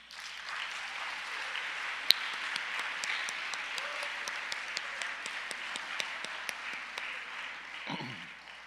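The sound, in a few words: applause at school convocation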